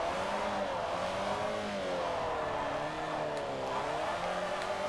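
Rear wheels spinning on a VTEC-engined car, the engine droning and revving with a wavering pitch at moderate distance, fairly quiet and without talk.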